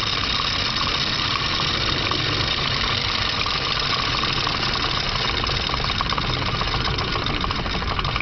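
Wilesco D365 Old Smokey toy steam roller running on methanol, giving a steady, close, continuous mechanical chugging and hiss at an even level throughout, with no talk.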